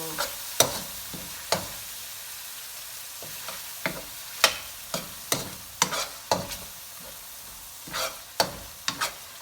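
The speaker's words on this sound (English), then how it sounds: "pouring some of the coconut cream" A pan of lemak sauce is stirred after coconut cream is added. Repeated scraping spoon strokes knock at an irregular rhythm over a soft, steady sizzle, close by and with no talk.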